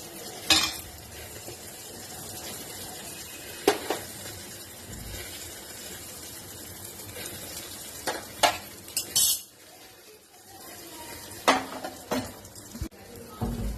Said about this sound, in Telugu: చూడండి, ఆరోగ్యానికి మంచిదని నేను రాగి దోశ వేస్తున్నాను.